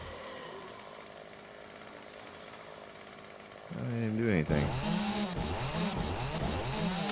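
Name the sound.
chainsaw killing zombies in video game 7 Days to Die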